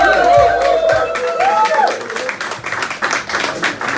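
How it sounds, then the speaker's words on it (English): Clapping from a bar audience after a live singer's performance, a burst of scattered hand claps mixed with crowd noise and a voice speaking over it, thinning out as it goes on. "You can't even continue clapping."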